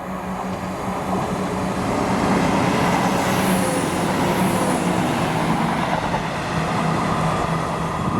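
A Phase 1 Turbo train, 1L56 from Dundee to Edinburgh Waverley, runs through South Gyle station with a loud, steady rumble of wheels and engine that swells and fades.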